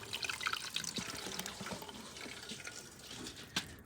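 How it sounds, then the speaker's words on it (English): Water poured and splashing, then trickling and dripping through the scuttle drain of a Mercedes R107 car, close and fairly quiet, with scattered drips near the end. "Let's see what happens when we pour water down here."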